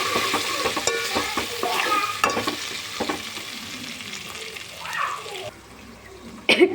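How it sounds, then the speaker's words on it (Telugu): Onions fry in hot oil with turmeric and ginger paste, a loud steady sizzle broken by repeated scraping stirs of a spoon in the pan, easing off toward the end before a final clatter. "కొంచెం పసుపు, 1 స్పూన్ అల్లం పేస్ట్ వేసుకొని ఫ్రై చేసుకోండి"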